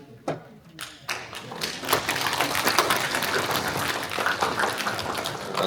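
Audience applause at a Korean apartment reconstruction association general meeting electing its chairman, clapping building from scattered claps into steady, sustained applause from a large crowd.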